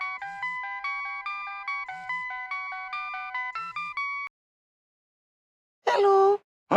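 A phone ringtone plays a repeating electronic melody for several seconds and then stops, followed by silence and a short breathy vocal sound.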